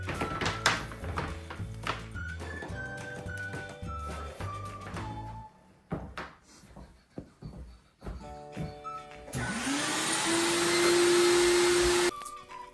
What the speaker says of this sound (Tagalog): So next process is mag-vacuum na siya